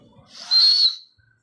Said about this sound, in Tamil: விசில் கூட அடிக்கிறாங்க.